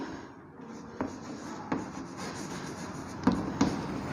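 Pen or chalk writing during a primary-school maths lesson on a word problem: quiet scratchy strokes with a few soft taps, steady across the stretch, no talk.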